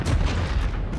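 A stuck grenade detonates in Call of Duty Modern Warfare on the Shipment map in Domination mode, a loud, close, rumbling boom that fills the whole second.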